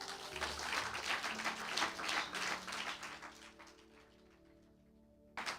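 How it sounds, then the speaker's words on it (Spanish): A congregation at a church service claps for Jesus, a faint, dense spatter of applause that gradually thins and fades, then ends abruptly. "Denle un fuerte aplauso a Jesús"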